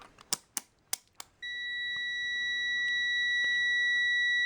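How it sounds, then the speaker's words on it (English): Multimeter continuity test on an automotive fuse: a few sharp clicks as the probes make contact, then a steady high-pitched tone that sounds continuously and closely to the end. "Here's our beep test right here."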